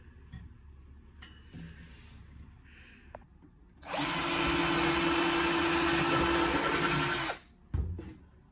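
A power drill whirs loudly and steadily for about three and a half seconds while fastening a Rev-A-Shelf pull-out shelf into a cabinet, preceded by faint clicks and handling noises and followed by a brief knock.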